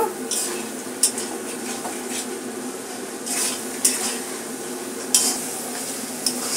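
Spice paste with salt sizzles and fries in a pan for a fish-oil curry made with katla fish, while a utensil scrapes and stirs it steadily. Sharp clinks of metal against the pan come every second or two, with no talking.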